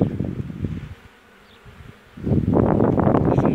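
Honeybees buzzing loudly at close range during a spring hive inspection of Carniolan and Buckfast colonies after a long winter, a dense steady drone that dips briefly and then swells back strongly.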